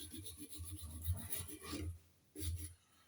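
A Jaguar XK8 anti-roll bar is scrubbed by hand to strip dirt, flaky powder coat and rust, giving faint, close, repeated rasping strokes that pause briefly before one more burst.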